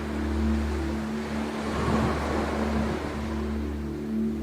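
Ocean waves rolling onto a sandy shoreline, a steady wash of surf with a gentle swell that rises and falls, heard from nearby alongside a constant low hum, with no voices.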